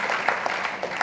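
Audience clapping during a talk, a dense steady wash of many hands applauding at moderate loudness, with a few sharper bursts standing out and a faint hint of voices underneath.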